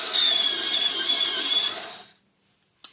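Pencil being sharpened with a sharpener, a steady high whirring grind for about two seconds that cuts off abruptly, followed by near silence and a brief click.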